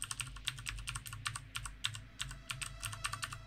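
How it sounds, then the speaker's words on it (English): A new gaming keyboard being typed on produces a rapid, uneven patter of crisp key clicks at close range, with no voices. "here's what the keyboard sounds like"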